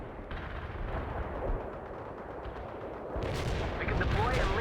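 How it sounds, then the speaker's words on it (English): Artillery barrage from World in Conflict: a constant roar of distant gunfire and heavy booms that swells louder toward the end, with voice chatter mixed into the battle noise. "Artillery commencing the attack"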